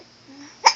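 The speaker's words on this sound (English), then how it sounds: "Does somebody have hiccups?" A baby gives one sharp, close hiccup near the end, preceded by a soft vocal murmur.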